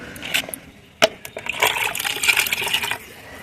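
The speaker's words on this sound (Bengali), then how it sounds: "আমি এর মধ্যে আবার কিছুটা জল দিয়ে দেবো" Water poured into a container holding fruit peels, a close, trickling and splashing pour lasting a couple of seconds, preceded by a sharp knock and a few light clinks.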